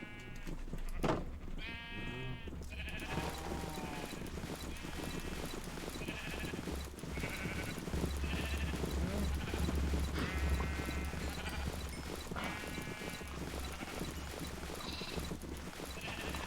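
Repeated sheep bleats from a video game, several short wavering calls spread across the stretch over a constant low ambient hum and faint hoof-like clopping, with no talking.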